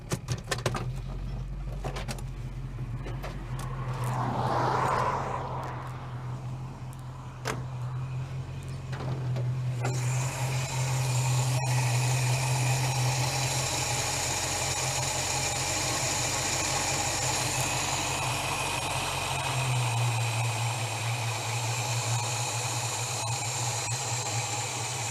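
A Holden HK engine idles steadily as its ignition timing is advanced under the bonnet, a constant low mechanical hum and rumble that shifts in tone partway through, close and alone without talk.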